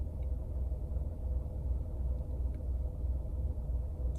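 A Renault Clio 4 engine idling with the car parked, a low steady rumble heard from inside the cabin, fairly faint and even throughout, with no voices.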